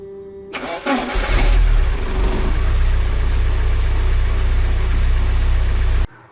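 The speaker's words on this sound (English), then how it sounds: "Okay, great. The engine's running." A classic Porsche engine cranks and fires, surges loudly, then settles into a steady, rumbling idle close by before cutting off abruptly.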